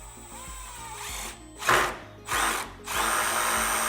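A power drill drives self-tapping screws in a garage in three separate loud whirring bursts. Each burst rises as the screw bites, and steady background noise fills the gaps between them.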